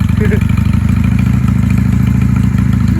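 A 1995 Honda Shadow 600 VLX VT600CD motorcycle engine running steadily close by, a continuous low throbbing rumble with a mechanical clatter.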